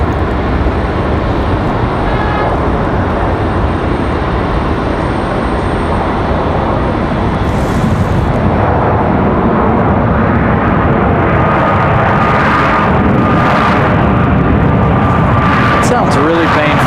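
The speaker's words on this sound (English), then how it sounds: "United 1365, a max 8 from Newark. That one touching down already." Dense, steady engine roar from a United Boeing 737 MAX 8 arriving from Newark as it touches down at Raleigh-Durham airport. The rumble is loud throughout, with faint voices underneath.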